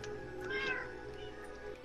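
A cat in the Minecraft video game meows once, a short, faint mew over a steady background hum, with no talking.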